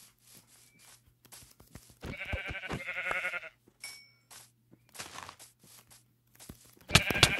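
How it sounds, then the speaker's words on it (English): Sheep bleat in Minecraft: a few short, separate bleats spread through the clip, near and clear, with soft clicks and footstep-like ticks between them. "Oh, more sheep."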